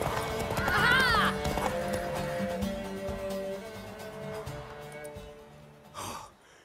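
Horse in The Witcher 3: Wild Hunt, a mare in a racing scene: a loud whinny rings out early, then steady hoof clip-clops continue under game music, ending with a snort or breathy exhale.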